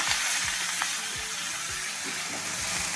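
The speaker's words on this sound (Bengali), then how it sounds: "এবার কিছু কাঁচা লঙ্কা দিয়ে দিলাম আর এবার শাকটা দিয়ে দিচ্ছি" Leafy greens hit a pan of hot oil with mustard seeds, a dried red chilli and green chillies, giving a loud, dense, continuous sizzle close by with faint rhythmic stirring underneath and no talk.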